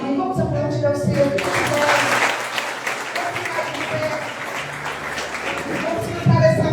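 A church congregation applauds during an evening service, steady dense clapping filling the room for several seconds, with voices and some tonal sound mixed underneath and a fresh burst near the end.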